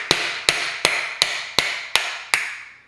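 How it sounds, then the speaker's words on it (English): Seven sharp, evenly spaced hammer blows from a Park Tool hammer drive a bearing out of a bicycle planetary freecoaster hub, each strike ringing metallically and decaying before the next, close and loud with no talk. "And that pounds the bearing out of the other side"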